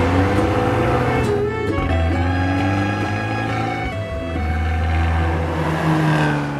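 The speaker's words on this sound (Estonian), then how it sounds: "aga see auto teeb päris käredat häält." A car engine growls and revs continuously up close, its pitch climbing and dipping, with music layered underneath.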